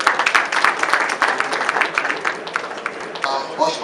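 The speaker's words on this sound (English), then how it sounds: "Let's give her a round of applause." Scattered hand clapping from an audience, steady and moderately loud, with a voice starting to speak near the end.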